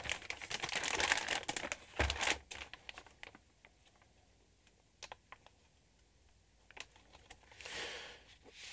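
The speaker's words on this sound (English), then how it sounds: "Okay, so let's get a piece of paper out." A sheet of glossy Kentmere photographic paper is taken out, giving loud close crinkling and rustling bursts followed by quieter scattered clicks and taps, with a final rustle at the end.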